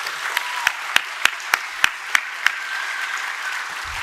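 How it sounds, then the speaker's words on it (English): At a dinner gathering, sharp, evenly spaced claps ring out about three times a second, eight or so crisp hits over a quiet room hum before fading out. "Can we give him another round of applause?"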